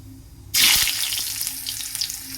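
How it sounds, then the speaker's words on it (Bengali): Cut potatoes hit hot oil tempered with cumin and dried red chilli, setting off a sudden loud, steady sizzle that keeps crackling without a break. "আলুগুলো অল্প একটু করে ভাজে"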